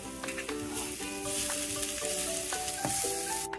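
Chopped green chillies frying in a pan, a close hiss of hot oil with a few quick stirring taps, set against sustained tonal music running throughout.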